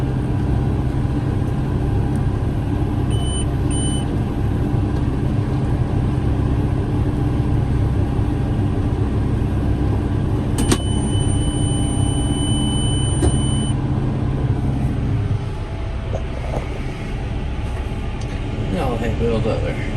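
A repaired hay baler runs in the field, pulled in first gear, giving a loud, continuous mechanical drone with a faint steady whine that eases slightly near the end.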